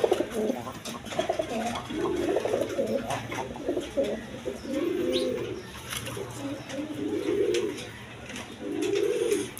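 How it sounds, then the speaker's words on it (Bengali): Large, sock-footed pigeons coo in repeated low, throaty phrases at a seller's place, close and clear, with faint chirps behind them. "দেখেন একদম বিগ সাইজের চুরি মোজাওয়ালা গররা কবুতর।"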